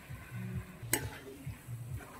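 Tomato and onion are stirred in a frying pan with a spoon scraping in a steady rhythm over a faint, quiet sizzle, with one sharp clink midway.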